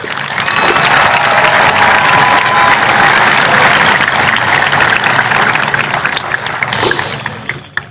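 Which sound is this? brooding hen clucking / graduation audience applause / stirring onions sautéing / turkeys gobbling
graduation audience applause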